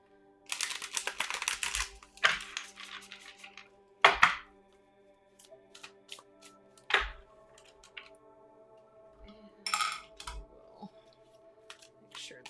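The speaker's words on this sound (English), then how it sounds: "I want to give them a good shuffle a couple of times" Tarot cards are shuffled in several short, crisp bursts of riffling and tapping, separated by quiet pauses.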